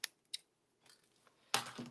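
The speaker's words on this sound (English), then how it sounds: "And they're supposed to be anti-stick scissors," Anti-stick scissors trim a paper card in short snips: two quick cuts, a soft scrape, then a louder snip near the end. The room is otherwise quiet.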